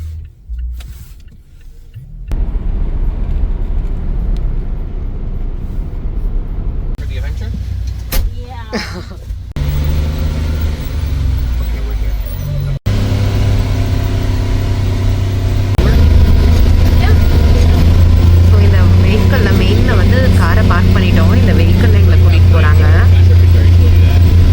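A car on a trip to the Catskills runs with steady engine and road noise that grows louder partway through, alongside power-window and door sounds, with people talking over it.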